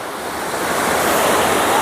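Sea waves wash onto the sandy beach at Hat Nam Sai near Sattahip, a constant close roar of surf that swells slightly in loudness, with some wind noise on the microphone and no voices.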